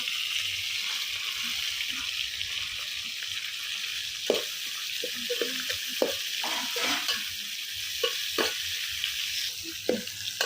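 Chopped coriander and green chillies dropped into a hot pan on a husk-fuelled stove for a tomato and potato curry, a steady close sizzle and hiss broken by scraping stirs, with no speech.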